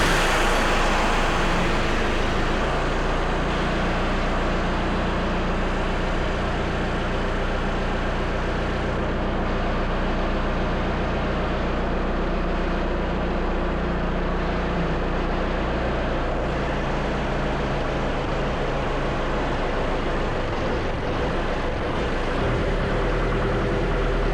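A Kubota diesel engine swapped into a 1965 Jeep CJ5 runs steadily for a long stretch, a dense, loud, continuous rumble with an even idle and little variation.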